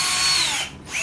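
A small 18-volt lithium-ion battery drill driver whines at high speed for about a second, dipping briefly as the motor eases off, then spinning back up, close and alone.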